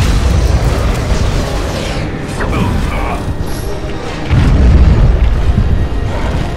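A Walking Bomb spell detonating in Dragon Age: Origins, a deep rumbling burst swelling out of ongoing combat noise, loud and low-heavy with clatter layered around it.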